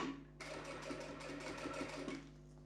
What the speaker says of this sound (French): On pique à plus ou moins 1 mm ou 2 du bord.